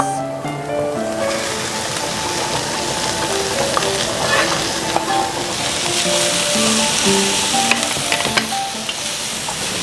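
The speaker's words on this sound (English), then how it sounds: "now I'll add my peppers to my onions" Chopped peppers hit hot onions in a frying pan, giving a loud, continuous sizzle with a few light stirring clinks, close and steady without speech.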